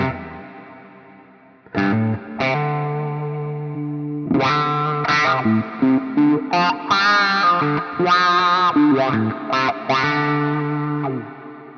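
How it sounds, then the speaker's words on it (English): Electric guitar played through a bass wah effect on a Neural DSP Nano Cortex, distorted sustained chords and notes with a swept, vocal-like filter tone, alone and close. "So now we have the bass wah."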